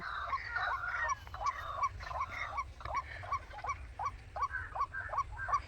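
Wild jungle fowl call in a run of sharp, regular honking cries, roughly a dozen evenly spaced calls over a low rumbling background, fairly close and without talk.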